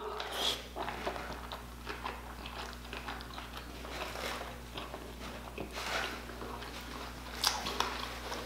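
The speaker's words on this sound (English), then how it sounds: "I'm still chewing." Close, steady chewing and crunching of whole lobster and giant king crab during a seafood boil mukbang with red sauce, soft wet bites repeating over a constant low hum.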